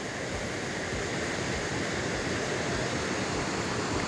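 Probiy waterfall in western Ukraine, heard up close from below: a steady, loud, broadband roar of falling water that continues without a break and with no voices.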